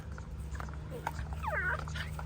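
Dog at a busy dog park letting out faint, brief whimpers and a thin rising whine over a steady low hum and distant outdoor background.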